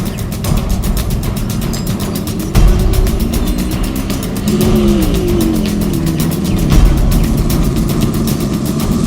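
A car engine runs steadily with a loud, close, rough rumble and a few surges, continuing throughout without pause.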